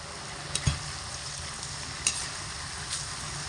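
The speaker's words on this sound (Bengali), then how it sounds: "এবার এটাকে হাই আঁচে রেখে এইভাবে অনবরত নাড়াচাড়া করে ভেজে নিতে হবে" Shredded potatoes fry in hot oil over high heat, giving a steady sizzle with a few sharp knocks and scrapes from continuous stirring.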